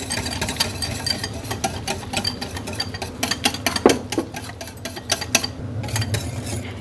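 A spoon stirs green chutney into thick yogurt in a bowl, giving steady scraping and light clinking strokes that repeat close up, with no talking.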